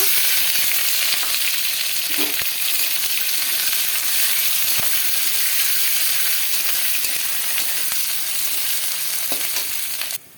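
Panch phoron, bay leaf and sliced onion frying in oil for Odia chicken kasa, a steady close sizzle with faint stirring clinks and no talking.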